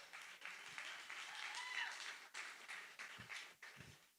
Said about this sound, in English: I get around of applause for Brenda.